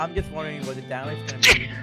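A single sharp sneeze bursts out near the end, cutting across steady conversational talk between several people.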